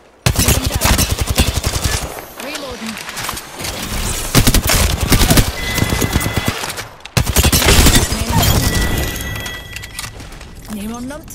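Enemy fire in Apex Legends sounds as rapid, loud automatic bursts, nearly continuous and close, with a brief pause midway; a voice talks over the shooting.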